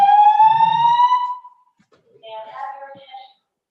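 Building fire alarm sounding a loud electronic tone that rises in pitch and holds for over a second, then a shorter, fainter warbling tone follows after a brief pause.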